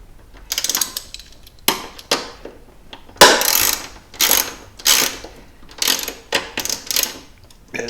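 Close ratchet clicking while turning 10 mm bolts on a C5 Corvette pop-up headlight motor, in short bursts of rapid pawl ticks separated by brief pauses.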